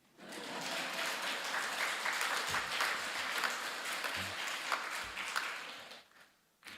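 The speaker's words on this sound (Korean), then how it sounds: "다른 교회는 박수 치던데." Congregation applause during a Sunday morning church service, a swell of sustained clapping from many hands that holds steady, then fades out abruptly near the end with a brief bump after.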